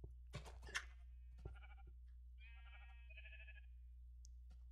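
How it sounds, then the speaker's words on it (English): Sheep in Minecraft give several distinct bleats, close and clear, spread over a few seconds, with a couple of short clicks at the start and a quiet low hum underneath. "ton of sheep in that house"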